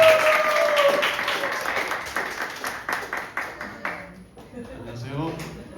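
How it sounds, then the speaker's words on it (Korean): A church congregation gives a big round of applause to two guests at a Sunday service talk, dense clapping filling the room then thinning into scattered claps as it fades. "우리 두 분을 다시 한번 큰 박수."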